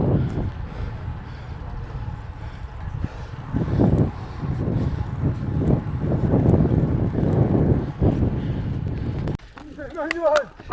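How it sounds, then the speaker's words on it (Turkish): Wind buffets the microphone during a sunny bicycle climb up Uludağ, a low rumbling gusting that comes in uneven surges, with someone talking over it. "Şimdi tekrar güneşin altında gidiyoruz ama fena değil burası esiyor."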